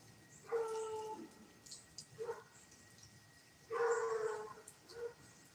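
A dog gives a few short barks and yips indoors, two separate bursts with whimpering in between, fairly close but not loud.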